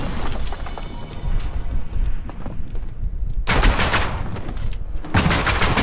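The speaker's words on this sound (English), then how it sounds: "Yo, they're firing shots at me!" Rapid bursts of gunfire aimed at the player in Fortnite, loud and close, with dense automatic volleys cutting in and out over a noisy game background.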